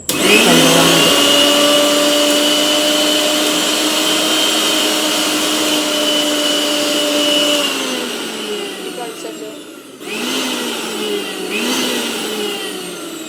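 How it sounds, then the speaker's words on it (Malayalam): A new V-Guard VX 750 Plus mixer grinder runs loud and close with a strong steady motor whine, then winds down, stops briefly and restarts. "ഭയങ്കര സൗണ്ടാണ് കേട്ടോ ഓൺ ചെയ്തപ്പോൾ പുതിയ മിക്സി ആയതുകൊണ്ടായിരിക്കും"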